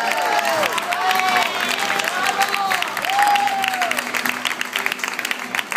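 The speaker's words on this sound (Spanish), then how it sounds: "Fuerte el aplauso, Sergio Morales." A live audience applauds with cheering and whistles at an acoustic concert in Barcelona, a dense, sustained clapping from the crowd with shouted calls rising over it.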